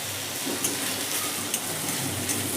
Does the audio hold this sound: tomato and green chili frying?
yes